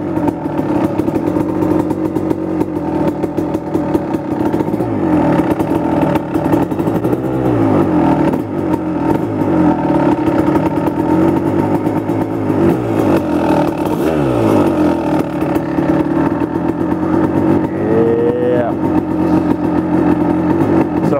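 A rebuilt 1999 Kawasaki KX250 two-stroke dirt bike engine idles as it warms up, a loud steady buzzing drone close by with slight wavering in pitch and small blips of throttle, no voices.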